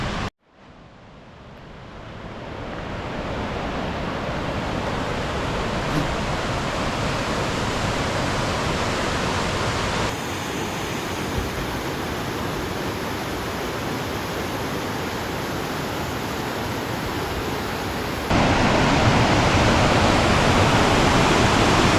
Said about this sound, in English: I think there's a waterfall up here.